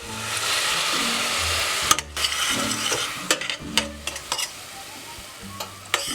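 Loud, steady sizzling of food browning in a pot as the bottom starts to stick, broken by scraping stirs and occasional clinks of a utensil against the metal.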